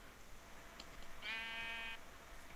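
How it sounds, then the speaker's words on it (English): A sheep bleating in the Minecraft video game, a single wavering bleat lasting under a second, faint against quiet background. "There's a glitching sheep over here."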